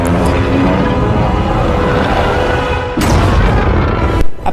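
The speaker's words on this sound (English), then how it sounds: "You know it, you love it, the atomic breath." Godzilla's atomic breath fires as a sustained, roaring blast, loud and dense throughout, with a sharp surge near the end before it cuts off abruptly.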